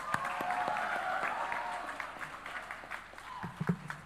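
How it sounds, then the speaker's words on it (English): Applause from an audience at a university event in India, moderately distant clapping that thins out toward the end, with a few louder claps and faint voices underneath. "One big round of applause to Sunil also."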